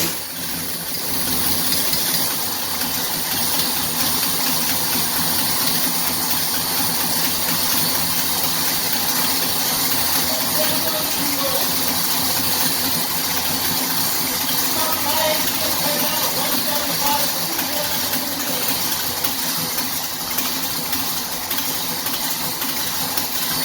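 A 1969 Pontiac GTO fitted with MSD Atomic EFI idles steadily and close by, a constant engine rumble with a faint high whine running through it, unbroken for the whole stretch.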